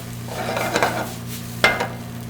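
A spoon stirs spinach and cream cheese dip mixture with butter in a pan, making a few soft scraping strokes over a steady low hum, with no talking.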